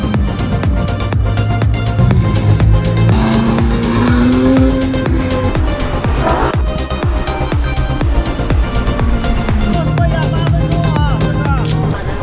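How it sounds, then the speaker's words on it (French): McLaren, Lamborghini and Xiaomi cars pulling away together, loud engines roaring and revving continuously with shifting tones, close and dominant throughout. "On a récupéré les McLaren, la Lamborghini, la Xiaomi, et on y va."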